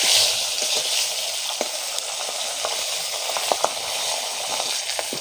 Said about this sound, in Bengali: তেলটা গরম হয়ে গেছে, মাছটা আমি হালকা করে ভেজে নেব।